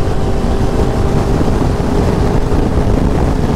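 Loud, steady engine roar of a Dodge Scat Pack muscle car on a Houston street, heard up close and continuous, thick and broadband with some wind buffeting.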